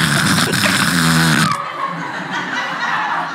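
A person's voice imitates a demonic, snoring-like noise: a loud, close, raspy guttural growl that breaks off into breathy exhaling.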